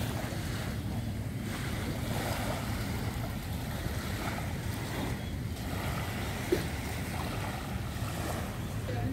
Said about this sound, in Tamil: ஸோ கடற்கரையாக, ஸோ மணல் அந்த அலைகள் ரொம்ப அற்புதம்.